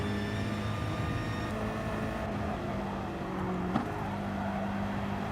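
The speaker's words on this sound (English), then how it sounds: "Some beautiful shots on board of this the M6, this BMW M6. Glorious car." Onboard engine drone of a BMW M6 race car in a sim racing endurance event, a steady loud mechanical roar with gear-shift pitch changes and a brief bump near the end, no talk.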